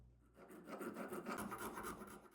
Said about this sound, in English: this time I used a less aggressive file for cleaning up the edges